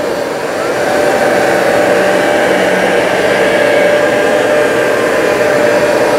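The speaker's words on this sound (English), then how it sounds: "Now I'm pulling the trigger on the Bissell." Hoover ONEPWR SmartWash cordless and Bissell ProHeat 2X carpet cleaners run together on carpet, a loud, steady whirring motor roar with spraying hiss that swells in during the first second and then holds constant throughout.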